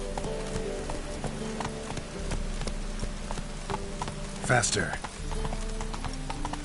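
Roach the horse gallops in The Witcher 3, hooves clip-clopping in a steady rhythm under music and ambience, with a brief louder burst midway while someone talks over it.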